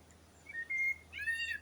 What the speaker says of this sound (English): listening to the birds chirping away in the sun